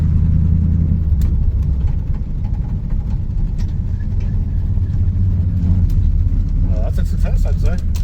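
A revived Ford Mustang engine running steadily with a low rumbling idle throughout, close by, while people talk over it near the end.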